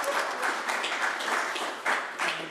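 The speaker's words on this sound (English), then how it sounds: "You can clap for them." An audience applauds as panelists come up at a university kickoff event, a steady wash of clapping from many hands that swells and dips over its whole length, with no talking over it.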